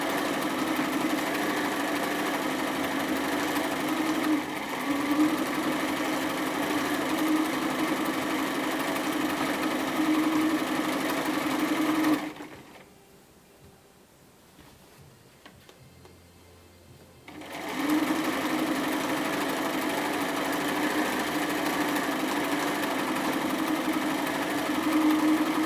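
A sewing machine stitches the sleeve seams of a bomber jacket, a steady close mechanical whir broken by a pause of about five seconds before it runs again; no voices.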